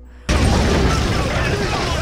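A mortar round thrown from high ground toward a cave detonates with a sudden loud burst after a brief quiet moment, followed by a dense, sustained roar of rumbling debris.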